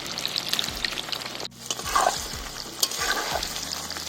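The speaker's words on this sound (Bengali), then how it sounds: "করা মাংসগুলো তেলের মধ্যে দিয়ে দিতে হবে ভাজার জন্য।" Chicken pieces fry in hot oil with a loud, continuous crackling sizzle, while a spoon repeatedly stirs and scrapes the pan.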